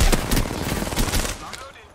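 A short stretch of loud, rapid video game gunfire, with dense overlapping shots in quick succession that taper off toward the end, and faint voices mixed in.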